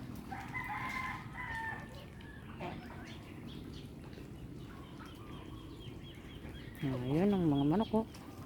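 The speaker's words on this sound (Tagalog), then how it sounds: "Ayan ang mga manok oh." Free-range chickens among turkeys, geese and ducks cluck softly in a farmyard, then a rooster crows loudly and clearly near the end over steady background murmur and faint voices.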